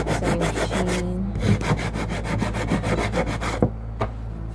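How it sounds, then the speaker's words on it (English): Sandpaper scrubs back and forth over wood in quick, rhythmic raspy strokes, close and fairly loud, with a short pause partway through. "when you run the sandpaper over, it kind of gives them both the same"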